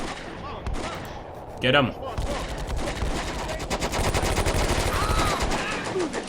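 Paratroopers fire in the video game Combat Mission: loud rapid bursts of machine-gun and rifle fire crackle almost without pause, with one sharp blast partway through and a brief shouted voice over the shooting.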